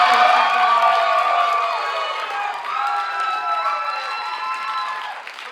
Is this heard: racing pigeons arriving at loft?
no